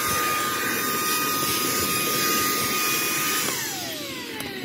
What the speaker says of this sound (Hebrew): לאחר מכן צריך לשאוב את הפירורים האלה